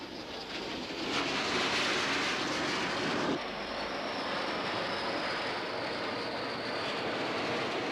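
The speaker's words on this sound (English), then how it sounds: "In the first wave, French-built Mystère fighter bombers." French-built Mystère fighter bombers give a loud, steady broadband jet roar that fills the whole stretch, shifting slightly in tone partway through as if one passes, with no voices over it.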